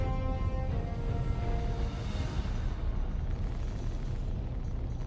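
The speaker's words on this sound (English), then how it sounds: "They just got size 7 cannon up there in the front." Size 7 cannon fire from a ship in the video game Star Citizen, a dense, continuous roaring blast that stays loud and sustained throughout, with no clear gaps between shots.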